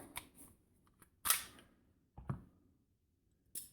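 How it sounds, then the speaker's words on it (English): A CZ 75 P07 pistol being taken apart with its slide stop removed, giving a few sharp, close metallic clicks and clacks separated by short quiet gaps. "You align the marks, punch the pin, the slide stop comes out"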